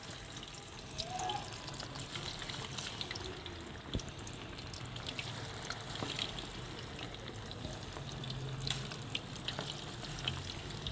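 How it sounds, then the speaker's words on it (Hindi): Chicken necks frying in hot oil, a quiet steady sizzle and bubbling with occasional small pops and clicks, fairly faint and with no talking. "अब हम इन चिकन गर्दन को फ्राई करेंगे। ये ऑयल हमने पहले से रखा हुआ है, गर्म हो गया, इसमें हम फ्राई करेंगे इसको।"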